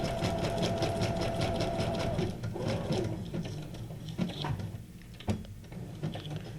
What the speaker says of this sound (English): And I'm back stitching on here